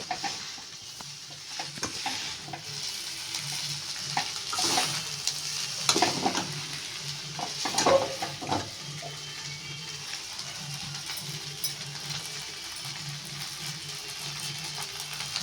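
Fried rice stir-fried in a pan over high flame, a steady sizzle running throughout with irregular scraping and tossing clatters of the spatula, moderately loud and close, no voices.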